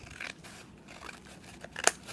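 Scissors snip through soft globs of material in a home kitchen, a few quiet, quick cuts with one sharper snip near the end, heard close against a faint room hiss.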